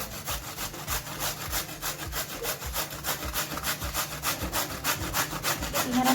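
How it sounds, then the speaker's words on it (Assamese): Carrots rubbed against a hand grater for halwa, a steady rhythmic scraping of close, even strokes repeating throughout with no talking. "গাজৰখিনি মই কাটি পেলাই চাফা কৰি ল'লোঁ। এতিয়া মই পিহনাখনত পিহি ল'ম"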